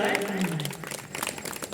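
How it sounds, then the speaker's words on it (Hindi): An audience at a poetry recital breaks into applause, a dense patter of many hands that starts under a speaking voice and carries on alone at moderate volume. "एक बार जोरदार ताली बजा दीजिए"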